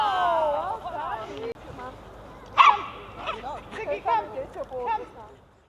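Several dogs bark and yip at a dog park in Harare, Zimbabwe, with mixed high and low barks from near and mid distance, running beneath a person talking throughout.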